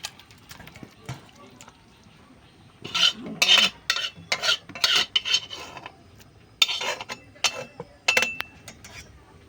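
A spoon scrapes freshly cooked fish curry from a pot into a bowl. Rasping metallic scrapes and clinks come in irregular bursts, close up, with a voice talking between them.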